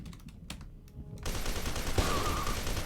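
Shotgun fire in the first-person shooter F.E.A.R. 2, a loud burst that erupts after a quieter moment of faint clicks, with a sharp blast and dense rattling gunfire filling the rest.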